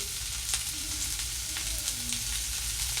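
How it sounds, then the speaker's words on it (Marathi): Chopped onion fries over high flame in a pan for a black horse gram usal, a steady close sizzle with soft scrapes and clicks of stirring throughout, no one talking. "त्यानंतर चिरलेला कांदा टाकायचा आहे"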